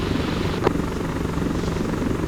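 Chinook transport helicopter in the military game Arma 3, its twin-rotor drone filling the clip with a dense, continuous low thrum and rotor chop, loud and close, with no talking.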